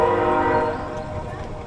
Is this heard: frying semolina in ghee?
no